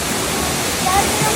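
Rushing water at Bhagsunag Waterfall in Dharamshala fills the air as a steady, loud broadband roar, with a faint voice surfacing briefly beneath it.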